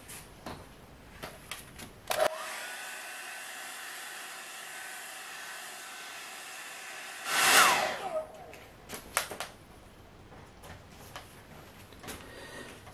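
Hair dryer blowing to speed-dry a watercolor landscape painting, a steady loud whoosh lasting about five seconds, with a brief louder burst near the end, between quiet tapping and handling noises.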